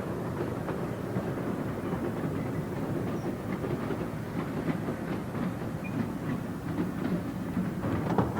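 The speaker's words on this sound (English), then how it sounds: "the splendid narrow-gauge railway, which has been doing the trip to the end of the pier and back" A narrow-gauge pier railway train dating from 1922 rumbles steadily along the pier, its wheels clicking over the rail joints in a continuous clickety-clack that stays close and even throughout.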